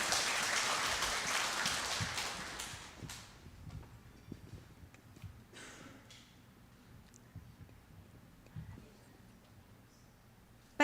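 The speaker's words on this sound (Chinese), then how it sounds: "我们给她鼓掌一下" Audience applause at a school graduation ceremony, steady clapping that tapers off after a few seconds into a quiet room with a few stray claps.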